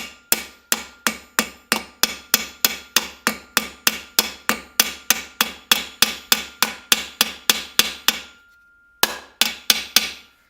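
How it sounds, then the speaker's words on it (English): A ball-peen hammer strikes a rivet on a piece of leg armour: a steady run of about thirty sharp metallic blows at a quick, even rhythm, then a brief ringing pause and a few more strikes, loud and close. "You use the ball to start the rivet and not the flat head as most people would."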